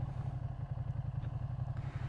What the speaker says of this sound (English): it's the stock exhaust and because it hasn't been flashed yet, but it's just so rattly